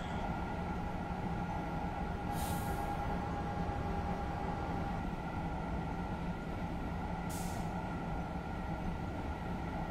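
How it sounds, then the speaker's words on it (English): A high-speed train using TVM 430 signalling runs in a train simulator game, giving a steady, continuous low rumble and hum with faint hiss and a couple of brief high swooshes. "Yes, Mr. Wii U guy, these trains use TVM 430"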